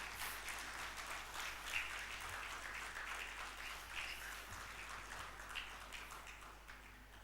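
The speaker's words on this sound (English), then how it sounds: "Round of applause," Sustained applause from an audience at a formal annual lecture in a hall, steady dense clapping for the full stretch at moderate distance, fairly quiet overall with no talk over it.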